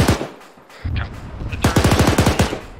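Rapid machine-gun bursts fired at a BTR armored vehicle in a military video game, loud and close, a quieter rattle early on, then a dense rhythmic string of shots.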